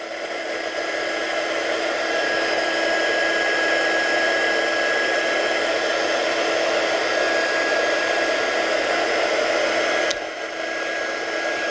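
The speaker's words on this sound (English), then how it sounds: "it's got a bit of a glitter in this embossing as well, so it'll give a nice twinkle when it's all heat set" A heat tool blows steadily to set glittery embossing powder on a handmade card, its constant close airy whine and rushing air running for the whole stretch, with a brief knock near the end.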